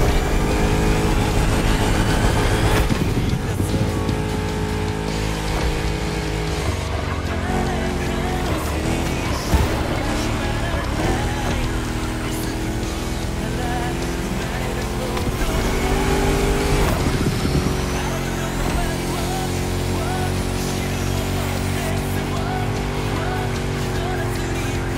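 A Chrysler 300 SRT8 with a V8 Hemi races in a driving game, its engine roaring and revving through gear changes with tire noise and passing cars, loud and continuous throughout.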